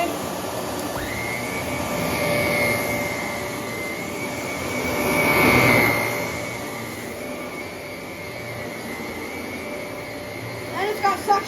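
A canister vacuum cleaner runs continuously with a steady high whine and airy roar, swelling louder mid-way as it passes nearby over carpet, with a few bumps at the end.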